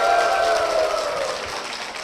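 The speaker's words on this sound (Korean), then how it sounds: "김치호 집사님 박수로 모시겠습니다" A church congregation applauding to welcome a speaker to the front, a short burst of many hands clapping indoors that is moderately loud and fades slightly over two seconds.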